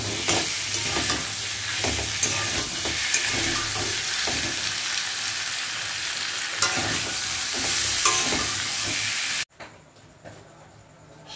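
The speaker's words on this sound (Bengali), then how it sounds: "এরপরে দিয়ে দেবো আগে থেকে সিদ্ধ করে রাখা আলু, আর সেই সাথে একটা কাঁচা লঙ্কা দিয়ে দিলাম" Boiled potatoes and a green chili fry in a hot pan, giving a loud, steady close sizzle with light stirring scrapes throughout, before the sizzle suddenly drops to a much quieter hiss near the end.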